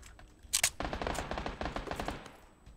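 Rapid automatic gunfire from the battle royale game PUBG on the Sanhok map, a loud burst of tightly spaced shots after two sharp cracks, sustained for about two seconds before trailing off.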